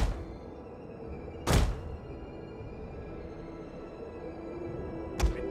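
A giant ballista fires in a Total War Rome 2 battle with two sharp, heavy thunks several seconds apart over a steady low background rumble.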